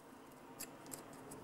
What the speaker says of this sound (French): Et là on découpe sur les côtés.